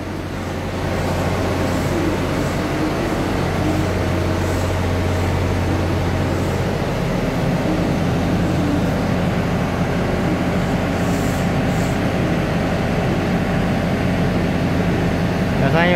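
Nine-car DR3100 diesel multiple unit Tze-Chiang express running on the North-link line from Hualien toward Shulin, a loud, steady engine drone and rumble with constant broadband roar throughout.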